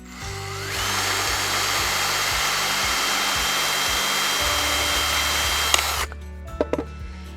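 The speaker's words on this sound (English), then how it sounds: "the blade will get sharpened as the pumice stone goes around" A loud, steady grinding whir of a spinning pumice stone sharpening a garden tool blade, running continuously for several seconds and then stopping abruptly, followed by a few small clicks.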